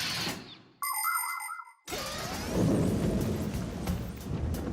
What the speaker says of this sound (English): This thunderstorm is really scary.